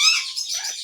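An Amazon parrot at a zoo lets out one brief, strange high-pitched call, a bright whistling squawk under a second long, sounded alone and close.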